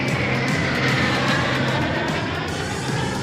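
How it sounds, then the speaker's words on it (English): A jet from an airshow demonstration team roars overhead, a loud, broad and steady rush of engine noise that holds without a break, with no talk over it. "That blue jet flies straight up"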